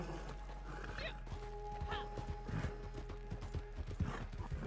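Horse hooves clip-clopping in the Red Dead Online video game, a steady run of hoofbeats with a horse whinny and game sounds mixed in, fairly close.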